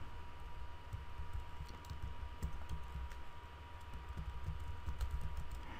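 Quiet, rapid keystrokes on a computer keyboard as an email address is typed, soft irregular clicking alone with no voices.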